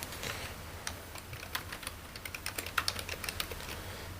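Typing on a computer keyboard, a steady run of close, crisp key clicks with occasional louder strokes, heard alone without talk.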